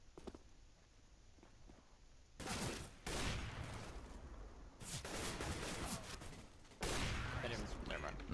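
Bursts of gunfire from Counter-Strike: Global Offensive ring out in several loud volleys, the heaviest coming in close spaced clusters across the clip, with quieter game ambience between them and voices talking over the action.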